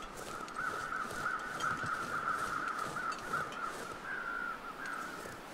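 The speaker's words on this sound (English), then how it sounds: "I saw more crows down here." Crows caw in The Long Dark, a steady chorus of harsh, repeated calls from several birds at a moderate distance over a quiet wintry ambience.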